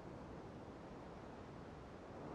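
Steady broadband wind rushing in the Customs map of Escape From Tarkov, a continuous airy roar holding even and unbroken with no talk over it.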